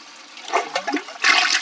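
A brief toilet flush, with gurgling water surges that build into a louder rush of water near the end, heard close and without talk.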